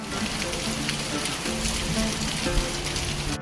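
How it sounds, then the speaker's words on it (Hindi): Heavy monsoon rain in the mountains pouring down steadily, a dense hiss of drops drumming on surfaces close by, with no one talking. "देखिए आज झमाझम बारिश हो रही है।"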